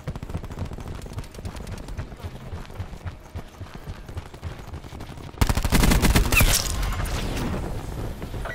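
Rapid gunfire and bursts erupt in a Call of Duty Black Ops 4 match, dense and loud, sharpening into a heavier, brighter barrage midway, with game voice audio faintly underneath.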